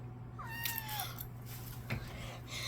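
A tiny kitten gives a single thin, rising meow over a steady low hum and background noise, with faint handling sounds around it.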